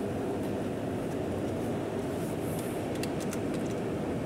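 A train moves through a video game level, giving a steady, loud rumble that holds even throughout, with a few brief higher clanks near the end and no talking.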